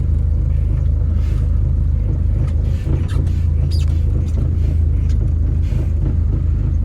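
Car with a freshly installed T850 manual transmission and new bell-housing, fork and throw-out bearing pulling away, a steady loud low engine rumble throughout with no talk.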